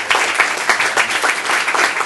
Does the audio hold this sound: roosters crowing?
no